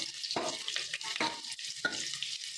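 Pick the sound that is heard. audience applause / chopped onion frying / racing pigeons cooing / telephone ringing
chopped onion frying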